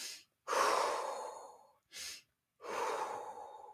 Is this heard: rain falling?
no